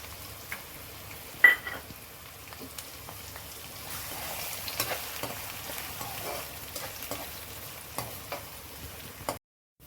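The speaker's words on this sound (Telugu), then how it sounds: "ఇప్పుడు ఇందులో ఉల్లిపాయలు వేయించుకుందాం." Onions fry in oil in a pan with a soft, steady sizzle. Faint stirring scrapes and a sharp knock near the start break through, and the sound stops abruptly just before the end.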